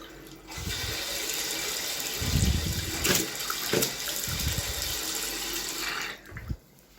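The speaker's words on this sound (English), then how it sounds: "we've got water coming out and a bit of air, which is to be expected" Water gushes from a household tap after a water softener has been moved, a steady loud rush with several bursts and splutters of trapped air, then stopping abruptly near the end.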